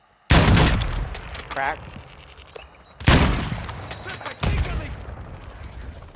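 Gunfire in a shooter video game: two loud, sharp volleys a few seconds apart, each trailing off into echoing rumble, with a voice speaking briefly between them.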